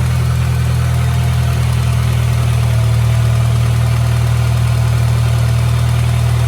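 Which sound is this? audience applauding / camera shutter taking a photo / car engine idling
car engine idling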